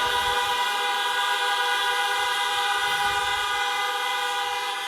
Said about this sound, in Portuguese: Em nome de Jesus, buzina mais, glorifica mais